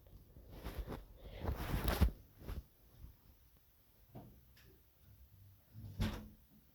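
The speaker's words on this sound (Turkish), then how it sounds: "kapıyı kapattım" A door being closed indoors, a few soft muffled thumps and a rattle clustered together, then a quieter knock a few seconds later, faint and low in a quiet room.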